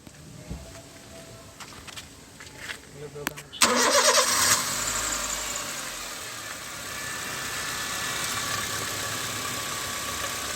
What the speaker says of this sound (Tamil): வண்டி கொஞ்சம் ஸ்டார்ட் பண்ணுங்க சார்.